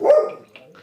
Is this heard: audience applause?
no